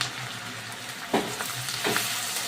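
Whole cumin, green chili, onion paste and ginger paste fry in mustard oil for an echor chingri dish. A continuous close hiss of sizzling carries two louder bursts as more paste hits the pan.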